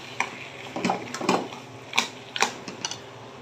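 Olive pickle being mixed with salt, turmeric and chili powder gives a series of irregular clinks and scrapes against the container, several sharp taps spaced over a few seconds with no voices.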